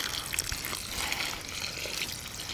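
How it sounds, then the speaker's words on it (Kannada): Water poured into a bowl of batter while mixing Maddur vada dough, a steady splashing trickle that runs close and moderately loud for a few seconds. "ಇವಾಗ ಸ್ವಲ್ಪನೇ ನೀರು ಹಾಕ್ಕೊಂಡು ಅದಕ್ಕೆ ಬರೋಂಗೆ ಕಲ್ಸ್ಕೊಳ್ಳೋಣ."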